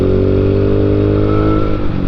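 A 2013 Yamaha Mio Sporty scooter, a second-hand motorcycle, idles loud and close, its engine and exhaust making a steady rhythmic putter with a deep hum, sounding continuously with no voices.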